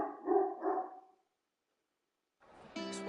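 A pet dog barks a few times in the distance, likely at a squirrel, followed by a gap of silence and then a whimpering, yipping sound starting up again.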